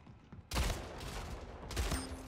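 Gunfire in the Splitgate shooter starts abruptly after a quiet moment, a sustained rattling burst with a second surge near the end, loud and close.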